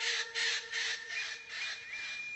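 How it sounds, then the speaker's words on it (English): An eclectus parrot gives a run of harsh, loud squawks, several rasping calls in quick succession, close up and alone. "Eclectus parrots are the pinnacle of parrot evolution."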